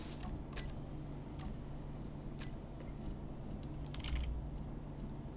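Welding a reactor in the video game Space Engineers produces quiet, steady mechanical clicking and ratcheting with short tonal chirps over a constant low hum.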